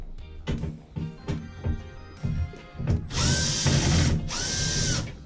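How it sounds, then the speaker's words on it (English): A power drill backs Phillips screws out of the front panel of an LG front-load washer, model WM3370HWA. Short ratcheting bursts come first, then two longer, louder whirring runs, all close up with no speech. "Now remove all the Phillips screws that are holding the top of this front panel."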